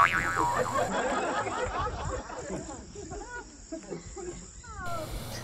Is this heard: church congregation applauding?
no